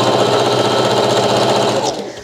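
A sewing machine backstitching a double-layer satin bonnet, a loud close rapid mechanical rattle running steadily before winding down at the end.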